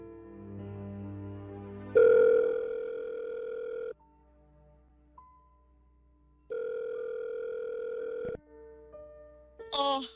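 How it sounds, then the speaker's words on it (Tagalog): Telephone tones while a call is placed: a steady dial tone, then gaps, a second long tone and brief higher chirps at the end, clear and close with no talking. "Kahit ayoko pero sige, tawagan na kita para magkali naman na."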